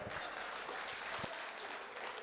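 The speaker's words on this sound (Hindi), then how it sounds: "एक बार जोरदार ताली बजा दो आप।" Listeners at a poetry recital clap in a steady, faint, continuous patter, a diffuse spread of many hands heard from some distance.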